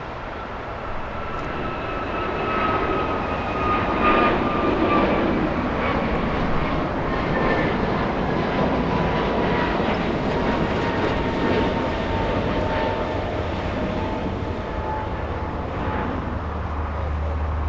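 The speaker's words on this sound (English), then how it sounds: "American 59 heading to Kona. That's an A321neo using 25 right for departure." An American Airlines A321neo departs runway 25 right at Los Angeles International Airport, its jet engines roaring steadily at a distance, a broad continuous rumble with a faint whine that holds through the takeoff.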